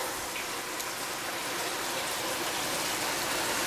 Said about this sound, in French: Je vais ajouter un peu d'eau.